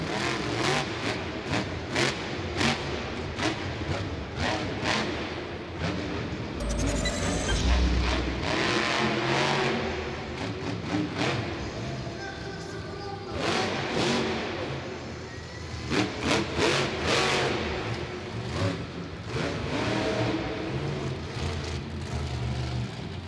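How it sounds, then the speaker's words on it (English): A freestyle motorsport engine revs hard at full throttle, loud and close, with repeated surges and dips in a rough rhythm that fill the whole stretch without speech. "you hit it fast, and you got your throttle stuck down to the floor going after the loud pedal"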